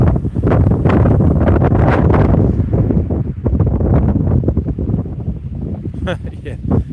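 Strong wind buffets the microphone on Chesil Beach during sea fishing, a loud continuous rumbling roar that fills the clip, with faint surf underneath and a voice talking over it.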